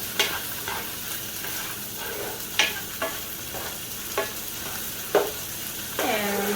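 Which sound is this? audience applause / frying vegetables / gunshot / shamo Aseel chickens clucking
frying vegetables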